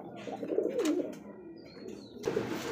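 Domestic Raj Golla pigeons coo softly close by in a few low, rolling calls, with a faint chirp and a brief flutter in the quiet background.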